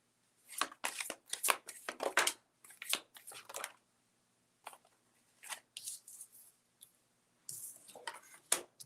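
A tarot card deck is shuffled in quick riffling bursts, close and crisp, with short pauses between clusters of snapping card sounds.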